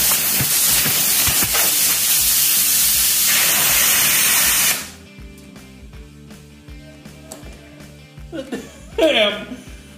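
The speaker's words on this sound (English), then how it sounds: "look at that, air chuck broke." Compressed air blasts out of a broken air chuck in a garage during front-end brake and steering work, a loud steady hiss for about five seconds that cuts off abruptly, followed by faint shop clatter and a brief squeaky noise.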